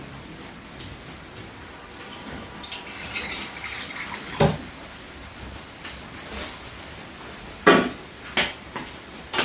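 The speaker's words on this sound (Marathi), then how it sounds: "थोडस पाणी टाकते मी पाणी कमी वाटते" Water pours into a cooking pot while fasting food is prepared, a soft continuous splash with a few sharper clinks and drips, heard alone without talk.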